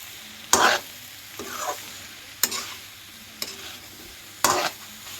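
Potatoes coated in masala are stirred in a pan in five distinct scraping strokes, evenly spaced and close, each with a brief sizzle over a quiet background, with no voices.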